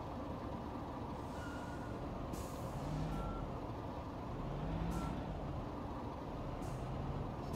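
A backhoe loader in a construction simulator game reverses with a steady engine rumble, its warning beeper sounding in a regular pulse over the low drone, with brief hissing bursts.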